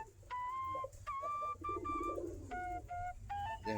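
Domestic pigeons sit near their coop after a night of heavy rain, making soft low burbling coos beneath several bright, steady whistled tones that repeat in short bursts, close to the recorder.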